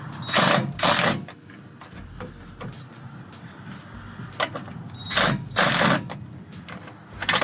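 Ratchet loosening a battery terminal nut on a 2017 GMC Sierra 2500 Denali Duramax diesel, giving several loud close bursts of rapid clicking with quieter gaps between them.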